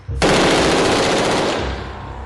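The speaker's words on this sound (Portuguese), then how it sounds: "O policial atira com 3 armas." At a police firing range, an officer test-fires assembled generic rifles in a loud, rapid burst of automatic gunfire that lasts about a second and a half, then fades.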